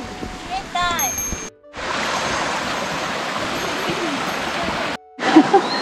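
Water rushes steadily on a mountain trail near a waterfall, a broad continuous roar close by. Brief quieter gaps break it, and faint voices come through at the start and near the end.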